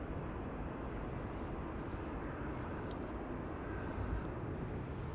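A TUI Boeing 787 Dreamliner arriving at Amsterdam Schiphol Airport gives a faint, distant, steady broadband jet roar with wind-like hiss, constant throughout and without voices.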